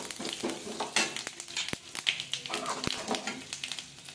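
Urad dal and asafoetida crackle and fry in a small amount of hot oil, with light, busy sizzling and a couple of sharp taps against the pan, all close up.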